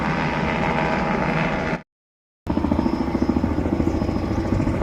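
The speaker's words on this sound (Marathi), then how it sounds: "हे हेलिकॉप्टर आता पुष्पवृष्टीसाठी आपल्या कचेश्वर मंदिराकडे" Steady loud helicopter engine drone with rapid pulsing, cut by a brief silent gap before the rotor throb resumes, as it flies to shower flowers over a temple.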